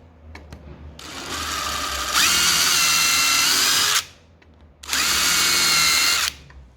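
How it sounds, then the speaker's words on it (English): A power drill whines loudly in two long bursts while drilling pilot holes for screws in a bus-conversion rear deck, its motor pitch rising as it bites in, with a short pause between runs. "drill the first 2 pilot holes so I know where I am, countersink them"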